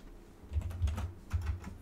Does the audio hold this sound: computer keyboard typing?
yes